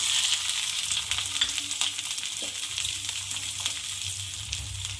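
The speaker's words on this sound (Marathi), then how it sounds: "आता मी वे वेगळ्या कढईमध्ये छान मिरची आणि कढीपत्ता पकवून घेणार आहे" Green chilies and curry leaves fry in oil in a kadhai, giving a continuous close sizzle with fine crackling throughout.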